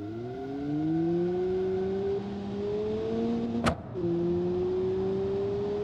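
Car engine revving hard in BeamNG.drive after a clutch dump, pitch climbing steadily through the gears toward 7,000 rpm, with a brief sharp crack as it shifts; loud, close and continuous with no talking.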